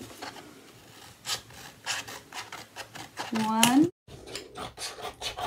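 Scissors cutting strips from an old cereal box cardboard at a scrap instrument workshop, giving a few short rasping snips close by, with a person talking over and between the cuts.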